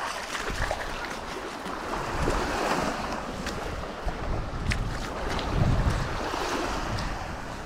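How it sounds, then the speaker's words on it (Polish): Waves wash onto a stony pebble beach in a steady, rushing roar, with gusts of wind buffeting the microphone and a few louder surges throughout. "Kamienista plaża."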